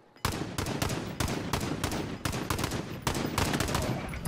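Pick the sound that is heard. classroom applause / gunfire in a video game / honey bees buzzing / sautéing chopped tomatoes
gunfire in a video game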